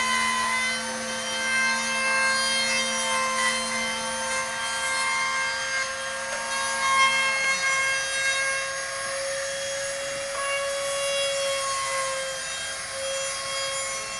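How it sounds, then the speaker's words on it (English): An electric router notches a piece of wood to seat bracing in a guitar at the Larrivee guitar factory in Vancouver, giving a steady, loud machine whine with bright overtones that holds for the whole stretch and shifts pitch slightly partway through. "he'll take a router and take a piece of that wood out of there"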